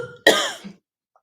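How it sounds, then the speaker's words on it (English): A single sharp cough bursts out close by, followed by a brief rasp and then silence. "I want to cough something up."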